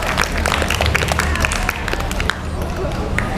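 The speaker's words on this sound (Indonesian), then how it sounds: "beri tepuk tangan untuk Nafis dulu" Group at a morning assembly bursts into applause, a dense continuous patter of many hands clapping with crowd murmur underneath, steady and fairly close.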